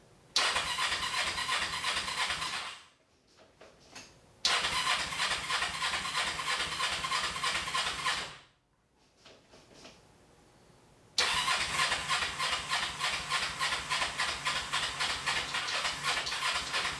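Kawasaki EX500 motorcycle engine, left sitting for four years, with the choke on, cranks in rapid rhythmic bursts; three long attempts are broken by short pauses, with brief sputters between them and no clear catch.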